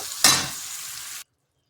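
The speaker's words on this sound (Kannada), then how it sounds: "ಸೊ ಇವಾಗ ಬೇಯಿಸಿರುವಂತಹ ಬೇಳೆನ ಹಾಕ್ಕೊಳ್ಳೋಣ." Cooked lentils for dal tipped into a hot pan, a sudden loud sizzling burst that settles into an even hiss for about a second before cutting off abruptly.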